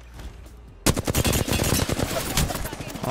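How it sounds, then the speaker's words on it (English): Rapid automatic gunfire erupts suddenly in the Apex Legends battle royale game, loud and close, after a quieter lead-in, with dense overlapping shots continuing to the end. "I'm getting shot by two fucking teams"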